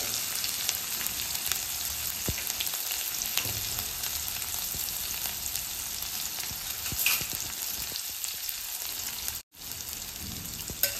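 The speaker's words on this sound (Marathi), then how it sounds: "आता यामध्ये आपण बनवून घेतलेली लसूण आणि हिरवी मिरचीची पेस्ट घालूया।" Garlic and green chili paste hits hot oil already crackling with bloomed cumin, giving a steady, dense sizzle and spatter that runs continuously and close up, with faint stirring scrapes underneath.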